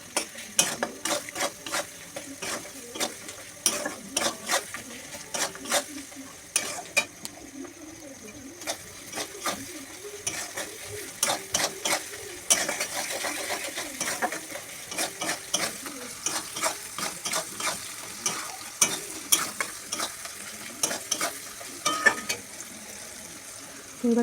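Onions stirred and frying in a pan, a steady sizzle broken by repeated scraping and clinking strokes of the spoon against the pan, close and continuous with no talk.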